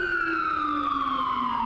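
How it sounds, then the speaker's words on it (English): Emergency vehicle siren sounding steadily with a descending wail tone, loud and continuous throughout, alone without talk. "We'll wait for those sirens."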